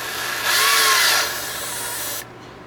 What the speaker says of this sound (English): I like to go slow with the drill